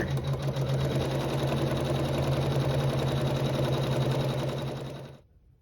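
Embroidery machine sewing a tack-down and placement stitch through layered quilt fabric, a fast steady mechanical whirring hum with rapid needle pulses, close and loud, stopping abruptly near the end.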